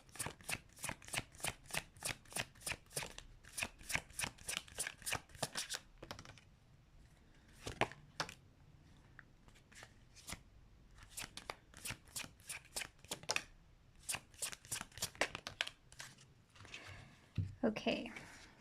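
A tarot deck is shuffled in fast, crisp bursts of riffling card flicks. Pauses break up the bursts, and brief talk comes in near the end.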